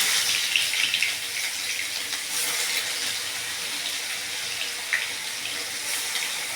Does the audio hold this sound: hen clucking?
no